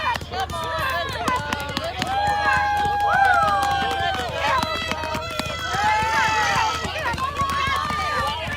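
Spectators along a steep hill in Cordova cheer and shout encouragement as a tired sled dog team climbs it: a dense crowd of overlapping voices, whoops and calls, close and steady throughout, with scattered sharp knocks and clatters mixed in.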